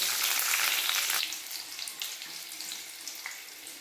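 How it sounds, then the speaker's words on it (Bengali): Bay leaf and dried chillies hit hot oil, giving a loud bright sizzle that fades after about a second to a lower, steady crackle, close and with no talk. "তেল গরম হয়ে গেলে তেজপাতা শুকনো লঙ্কা দিয়ে দেবো।"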